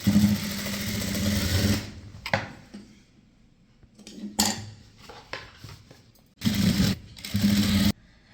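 A sewing machine runs a double line of stitching on a blouse in several separate bursts, close and fairly loud, with quiet pauses and soft fabric handling between runs. No speech.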